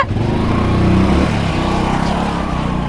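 A motorcycle engine running steadily and loud up close, a continuous throbbing drone that holds for the whole stretch with little change.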